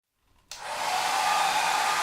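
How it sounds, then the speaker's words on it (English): After a brief quiet moment, a hair dryer switches on and runs with a steady, loud whooshing hum. "hairdryer."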